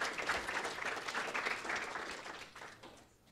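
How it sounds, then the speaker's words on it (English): Audience at a live conservative conference at the Reagan Ranch applauding a group, a dense, even wash of clapping that holds steady and then tapers off toward the end. "Give them a round of applause."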